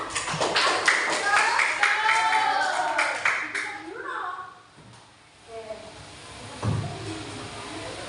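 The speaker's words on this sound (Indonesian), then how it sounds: "Tepuk tangan." A classroom group clapping hands after a student presentation, a scattered burst of sharp claps in the first few seconds that fades out, with voices talking over and after it.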